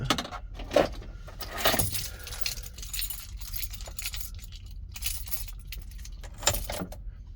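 A bunch of keys jangles in bursts near the back of a van on a rainy evening, several separate clinks and rattles spread across a few seconds against a quiet background.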